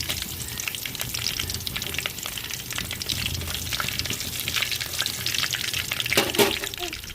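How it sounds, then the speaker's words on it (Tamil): Curry leaves and dried red chillies frying in hot oil for Tamil sambar, a dense continuous sizzle and spatter close up, with a brief sharper burst near the end. "ரெண்டு கருவேப்பிலை போட்டுக்கிறோம் வத்தல் சேர்த்து வைக்கிறோம்"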